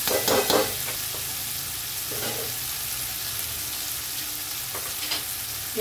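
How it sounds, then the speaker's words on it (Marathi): A spiced vegetable biryani mixture is stirred in a hot pan, with a continuous sizzle and a few louder scraping strokes of the spoon near the start and end, close up with no talking. "एकदा थोडं याच्यामध्ये मिक्स करून घेते."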